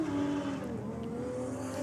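A turbocharged LS-powered Commodore Ute with a manual gearbox roars down a drag strip in a roll race, its engine a loud sustained drone with shifting pitch.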